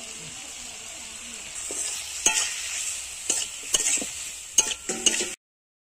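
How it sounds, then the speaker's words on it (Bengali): Tomatoes frying in hot oil in a pan, a steady broadband sizzle with several sharp spoon-scrape and stirring clicks, close and fairly loud, stopping abruptly near the end. "এবার এর মধ্যে আমি টমেটোটা দিয়ে দেব।"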